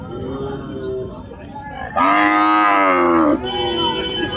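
Local deshi cattle at a busy cattle market give a loud, drawn-out moo near the middle, with shorter lowing and crowd murmur before and after.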